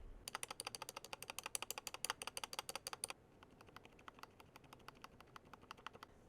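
Rapid mechanical keyboard typing after a fix for rattling stabilizers, crisp clicky keystrokes in a steady stream, louder and brighter for the first half, then continuing softer and duller.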